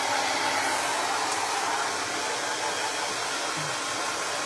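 A hair dryer blows at a loud, steady, unbroken roar for the whole stretch, with no voices.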